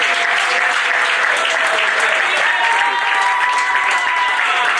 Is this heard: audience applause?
yes